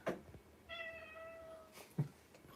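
A hungry cat meows close by, two short calls and one long drawn-out meow between them, with a quiet room behind.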